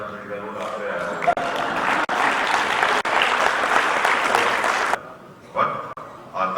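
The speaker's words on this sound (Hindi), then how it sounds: "देखिए 2-4 लोग जो ताली बजा रहे हैं," An audience claps steadily for about five seconds at a news event in Jaipur, Rajasthan, the applause loud and close before it breaks off into a few scattered claps.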